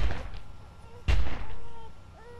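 Gunfire in The Walking Dead video game: one sharp, loud gunshot cracks out midway, preceded by a couple of fainter pops, with a low tonal game soundtrack around it.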